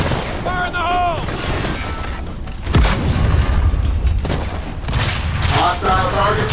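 A grenade detonates in the Gears of War 4 video game: a sudden deep blast midway, with a booming low rumble and chaotic gunfire-like noise around it, while voices shout before and after.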